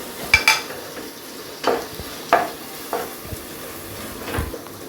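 Ginger garlic paste sautéing in a pan, with a few distinct spatula scrapes and stirring strokes spaced irregularly over a faint background sizzle, close and moderately loud, no voices.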